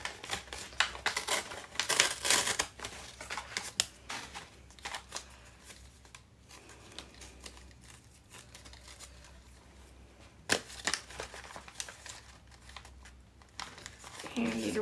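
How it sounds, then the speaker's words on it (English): Paper being ripped and torn by hand while altering a time card notebook and trifold, giving bursts of crinkly tearing and rustling close up with quieter handling pauses between them. "So rip that right there."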